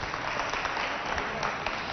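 A short burst of dense audience clapping for a contestant at a school talent show, steady and fairly loud with no talk over it.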